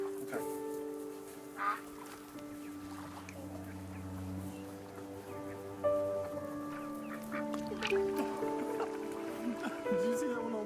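Ducks in the video game That Dragon, Cancer quack and honk in scattered bursts over soft game music, near and fairly quiet, with people murmuring now and then.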